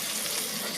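Spiny lobster sizzles in an air fryer after a blast at 450 degrees, a brief, steady crackling hiss heard close up and alone.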